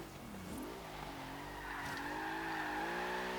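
Bentley Bentayga, a 2016 luxury SUV, driven hard in Forza Horizon 3 autocross: steady engine drone with rising pitch as tyres squeal through a corner, continuous and close throughout.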